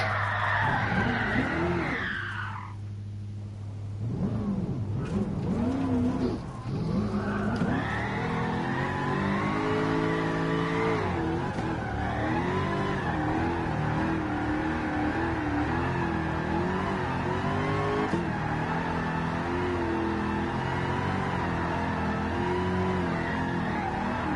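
A race car drifting in GT Sport at Tsukuba, engine revving high and wavering with throttle changes while tires squeal and skid continuously, loud and close throughout.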